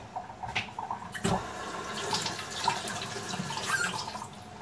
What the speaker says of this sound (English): I'm going to wash up my cauliflower